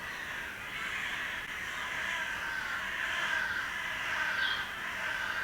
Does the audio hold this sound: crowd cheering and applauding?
no